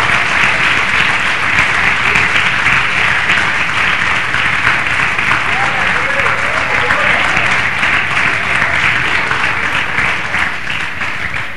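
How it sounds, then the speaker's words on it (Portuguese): A church congregation claps loudly and continuously for over ten seconds, a dense, even wash of many hands, tapering slightly at the end. "Aplauda ao Senhor que Ele não erra jamais"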